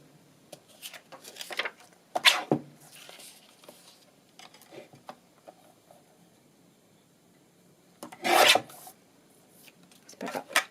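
Paper rasped by scissors or a trimmer while the narrow top strip of a handmade faux library pocket is cut away, in two or three short dry bursts separated by quiet handling rustles.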